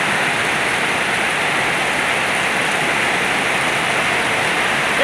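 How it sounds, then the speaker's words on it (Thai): Steady wind and rain in a garden, a dense continuous hiss of falling rain with a gusting wash, moderately loud and unbroken throughout, with no voices. "เสียงลมและฝนนี่แหละ"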